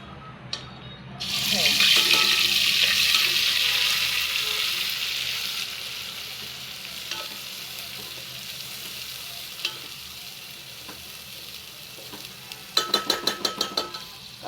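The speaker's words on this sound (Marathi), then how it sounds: "ते तेल गरम झालेलं आहे चांगलं आणि आता आपण टाकणार आहे याच्यामध्ये वाटण वाटलेलं" Ground masala paste hits hot oil in a home kitchen and sizzles loudly, the hiss gradually fading as it is stirred, with scraping and a few clinks of a utensil near the end.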